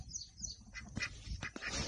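Faint, scattered quacks and bird calls from a drake and ducks come from a short distance against quiet background noise.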